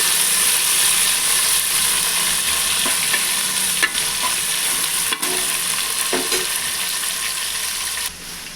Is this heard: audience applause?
no